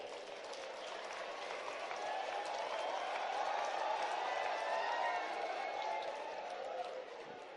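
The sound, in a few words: audience applause for BAMS students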